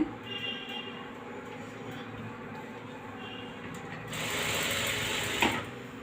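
A sewing machine stitches an embroidered blouse, its mechanism whirring and clicking steadily at close range, then running louder and faster for the last couple of seconds.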